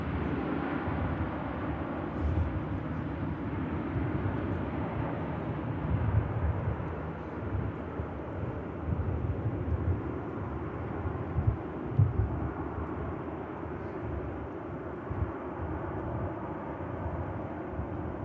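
EasyJet airliner landing at Manchester Airport, a broad steady low rumble and roar of engines and rollout heard from a distance, consistent and without talk.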